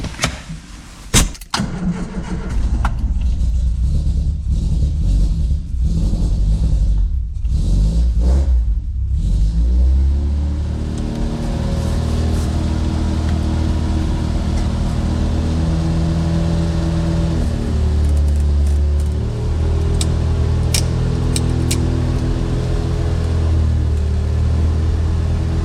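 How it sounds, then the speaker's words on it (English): A Triumph Spitfire 1500 engine starts and settles into a loud, steady rumble with occasional revs rising and falling, close by. "It's a Triumph Spitfire 1500, the last generation of Triumph Spitfires"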